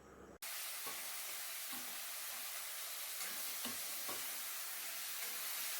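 Duck meat frying in a pan, a loud continuous sizzle that starts abruptly and holds steady, with occasional scraping stirs of the meat and no talking.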